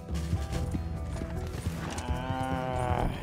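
A horse in Red Dead Redemption 2 gives a loud, close whinny with a rising and wavering tone toward the end, over game ambience and shuffling hoof and tack sounds.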